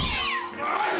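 A single drawn-out cat meow, loud and close, wavering in pitch over about a second.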